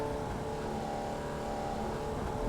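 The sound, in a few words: race car entering the pit lane in a racing video game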